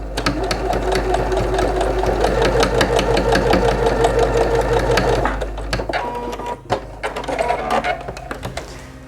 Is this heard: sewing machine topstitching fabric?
yes